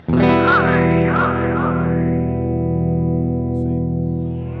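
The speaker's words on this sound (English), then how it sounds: "it also allows you to do this thing called ramping. So it moves between two different sounds in the pedal" Alexander Superball delay pedal ramping between wet and dry blend on a sustained guitar chord, the delay trails swelling and shifting in a wavering, chorus-like shimmer before the sound settles into a steady, slowly fading wash.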